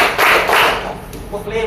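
A classroom of students claps hands together in a counted pattern, producing dense, loud overlapping claps in broad bursts while a teacher's voice calls out the count.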